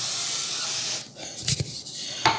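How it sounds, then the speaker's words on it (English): A quiet hiss fades out, then a few short bursts of cooking oil spray hiss close by onto bread dough, with a final quick spritz. "oil spray on here."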